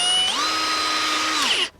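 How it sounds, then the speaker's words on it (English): A power drill whines as it bores an 8.5 mm pilot hole, the motor pitch rising under load, holding steady, then dropping as it stops, loud and close. "So using a drill, I'm going to run a pilot drill first."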